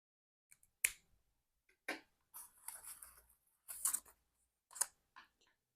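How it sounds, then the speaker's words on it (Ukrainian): Baby scissors with blunt rounded tips and a protective cover being handled, giving a handful of sharp, close clicks and snaps separated by short pauses in a quiet room. "Гарні ножиці із чохольчиком і спеціальними тупими кінчиками."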